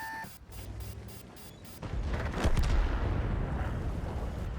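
A heavy 780 tank cannon booms in a tank video game, following a short run of rapid interface beeps and tones; the loud blast leaves a broad rumbling roar that lingers, with no talking.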